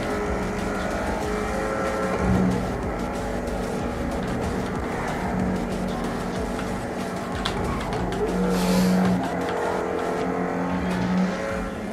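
Fast car driving in GTA V on a FiveM server, a steady engine drone with tonal hum running throughout, fairly constant with slight surges, no talk over it.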